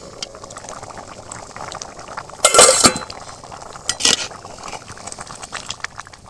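A lid clatters onto a pot of simmering one-pot chicken khichuri, one loud metallic clank and a shorter knock soon after, over a steady bubbling hiss.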